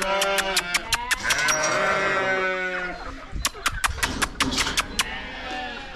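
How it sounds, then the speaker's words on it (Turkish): Sheep bleat on a farm, several animals calling in quick overlapping bursts, loud and close, with a short lull midway before another cluster of bleats and some light handling noise. "Buraya koyunlar girmiş"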